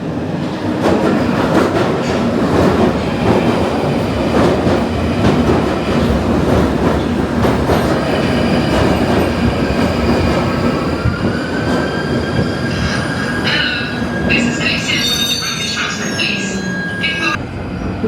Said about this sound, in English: So let's go to Moorgate and film a train out.